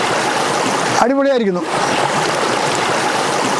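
A river stream flowing steadily at an outdoor riverside cooking spot, a dense, loud rushing wash that never lets up, with a brief spoken remark breaking in over it.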